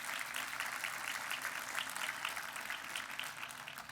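Audience clapping at a city-address roundtable, a fairly faint, even patter of many hands sustained throughout without voices over it.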